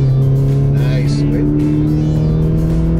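A 2017 Toyota 86 engine holds a loud, steady high-rpm drone with strong tonal hum from inside the car, a brief higher whine rising midway.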